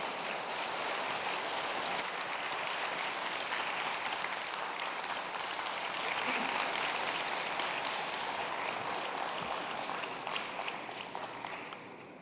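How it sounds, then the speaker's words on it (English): Sustained applause from a large audience at the Korea-ASEAN Commemorative Summit in Busan greets President Park Geun-hye, a dense, steady wash of clapping that holds for about twelve seconds before easing slightly at the end. "Please welcome her with a big round of applause."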